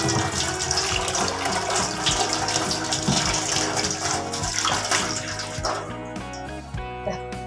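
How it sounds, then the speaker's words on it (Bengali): Water runs steadily from a tap while a comb is rinsed clean, a continuous gushing splash that holds even for several seconds and then thins out near the end. "এবারে শুধু জল দিয়ে ধুয়ে নেব।"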